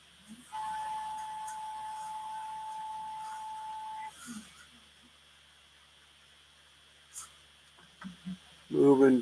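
A Prusa MMU2 multi-material unit pushes filament out with a steady, thin motor whine lasting a few seconds. Near-silence follows, broken by a few soft clicks and a louder mechanical burst at the end.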